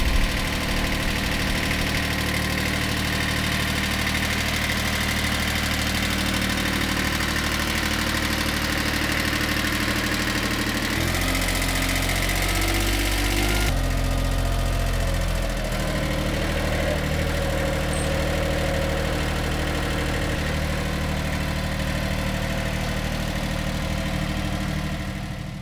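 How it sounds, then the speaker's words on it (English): Constant heavy engine drone of a tractor scraping sod with its back blade nearby, steady and loud throughout, with a brief shift in tone midway. "I use my tractor to do that with the back blade."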